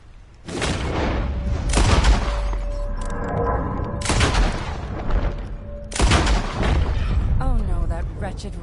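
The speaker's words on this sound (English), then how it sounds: "I'll shoot a few more this time." Gunshots in Red Dead Redemption 2: three loud, well-spaced booming shots, each followed by a long ringing decay, with a voice speaking briefly between them.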